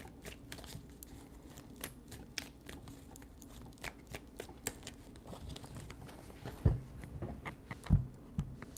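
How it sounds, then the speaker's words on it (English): Tarot cards are shuffled by hand in soft, quick riffling and tapping sounds, faint and close, with a couple of louder knocks near the end. "3 shuffles."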